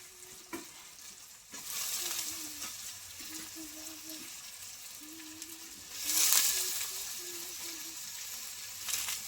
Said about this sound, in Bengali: এবার এইখানেই আমি দিয়ে দেবো ভালো করে মাশরুমটা একসঙ্গে দিয়ে এর সঙ্গে কষিয়ে নেব।